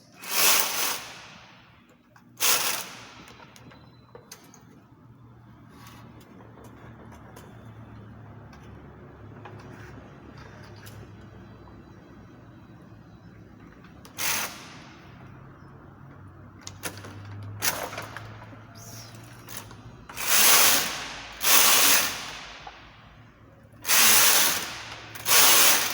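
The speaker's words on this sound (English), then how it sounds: "So after this, I'll knit 8 rows." A knitting machine carriage works rows of a chunky cardigan, sliding back and forth in loud rasping, clattering sweeps separated by quieter stretches of ticking mechanism and low hum; no one speaks.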